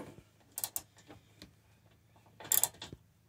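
Quiet ratcheting clicks from a ratchet wrench tightening bolts on an RV swivel seat base, a few short bursts of rapid ticks separated by pauses, close and faint.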